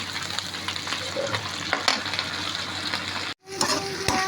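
Shrimp and small crabs sizzle loudly in a pan with banana heart, a steady close frying hiss with stirring clatter, a brief cut near the end and then the sizzle again.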